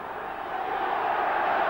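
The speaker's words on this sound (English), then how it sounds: "And the crowd urging the Warrington players forward" Rugby league crowd at a Warrington match roars to urge the home players forward, a dense, swelling wash of voices that grows louder through the brief moment.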